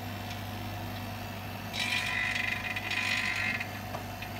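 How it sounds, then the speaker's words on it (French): A vacuum pump's steady mechanical hum runs throughout, joined midway by a louder, hissing whine that rises for a couple of seconds and then settles back down. "Deuxième, c'est le bruit de la pompe à vide."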